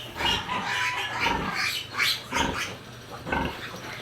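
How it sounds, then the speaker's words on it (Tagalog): Sow on a backyard farm making repeated grunting and squealing noises in short bursts, close and fairly loud, with no speech. "nagpapadid po pala uli yung baboy ni mama. Kaya po pala maingay."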